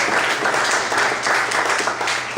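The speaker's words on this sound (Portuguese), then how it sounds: "Você pode desocupar sua mão e aplaudir o Senhor." A church congregation applauds, a steady and fairly loud wash of clapping that continues throughout without pause.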